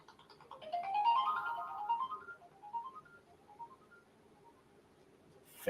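A phone ringtone plays a rising melodic tune that fades away slowly, heard alone and fairly faint.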